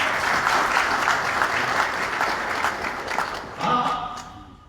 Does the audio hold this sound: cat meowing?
no